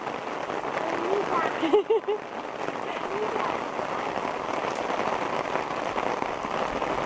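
Steady rain patters on surfaces nearby, a continuous wash of drops, with a brief voice cutting in early on.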